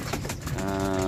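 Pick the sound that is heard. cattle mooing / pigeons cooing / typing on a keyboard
pigeons cooing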